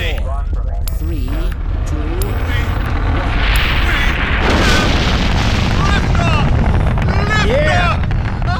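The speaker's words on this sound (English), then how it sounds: "probably the first rocket launch since 1998" A rocket launch in Half-Life 2 Episode Two roars as a loud, continuous low rumble with blasts of noise and shaking, while excited voices talk and exclaim over it.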